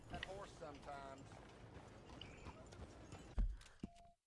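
Clip-clop of horse hooves at a steady trot under Red Dead Redemption game music and voices, ending with a sharp thump and a brief tone.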